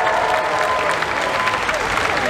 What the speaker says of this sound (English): A massive round of applause for everybody on the stage today!